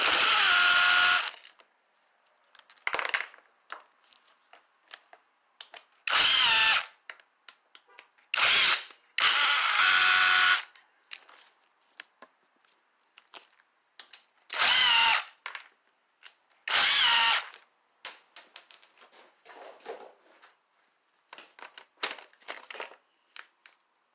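A power tool whirs in short bursts to remove fasteners during a Chevy Cruze engine teardown, loud and close, with pauses, small metallic rattles and clinks between the runs.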